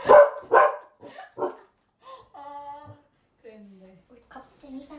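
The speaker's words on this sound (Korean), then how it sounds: "겁쟁이 강아지" A small, timid dog indoors gives two quick barks, then softer yips and whines, heard close over quiet room tone with voices nearby.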